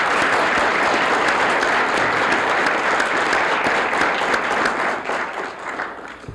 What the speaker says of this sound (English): A round of applause for these fine contestants.